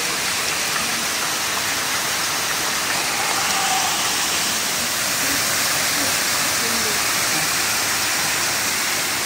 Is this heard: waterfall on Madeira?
yes